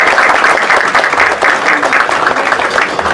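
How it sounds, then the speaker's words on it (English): A large audience at a talk on rebranding Haiti claps steadily and loudly, a dense, even wash of applause that holds for the full few seconds. "So let's give ourselves a round of applause for that."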